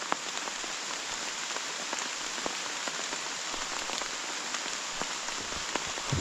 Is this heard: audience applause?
no